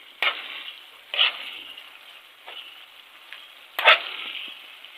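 Carrots and cabbage sizzling in a pan as they are stirred, with a steady frying hiss broken by a few sharp scraping bursts of the spoon.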